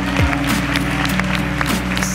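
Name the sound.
audience applause for fashion contest winner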